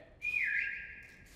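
A single rising-then-falling whistle tone from a prop hunt video game, fairly faint and lasting about a second over quiet background.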